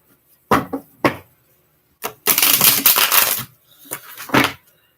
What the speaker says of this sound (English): I suck at shuffling cards